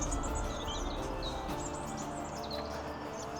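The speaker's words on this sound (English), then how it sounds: "And you can hear the birds" Birds chirp and sing in repeated short calls at a lakeside campsite, fairly distant and steady over a constant low rumble of nearby road traffic.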